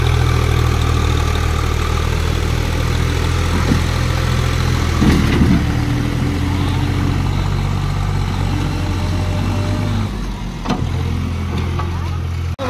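A tractor engine runs steadily with a low, heavy idling drone and vibration throughout, close and loud, with occasional knocks and background voices.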